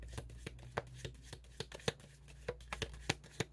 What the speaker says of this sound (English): That's my favorite part of this reading, is the shuffling cards.